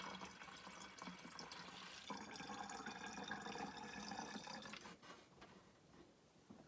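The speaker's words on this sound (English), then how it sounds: "of distilled or other water. So you're just gonna pour that in there." Distilled water pours into a container for homemade hand sanitizer, a soft, steady trickling stream that swells after a couple of seconds and then tapers off, close but quiet.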